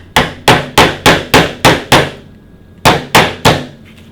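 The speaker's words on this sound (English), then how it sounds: "If you ever want to hit a nail into a piece of wood with a lens," A camera lens is used as a hammer to drive a nail into a piece of wood. The blows land as loud, sharp knocks: seven in a steady rhythm, a brief pause, then three more.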